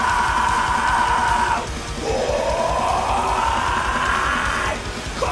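A metal vocalist's harsh, sustained scream that breaks off briefly and then resumes, loud and raw, over a dense, continuous wall of noise.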